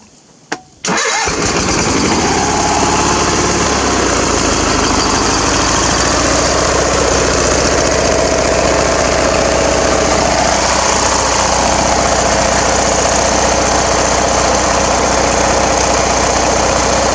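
A Craftsman small engine cranks once and catches, then runs loud and close with a steady, rough drone that roughens slightly as it skips, continuing without pause to the end.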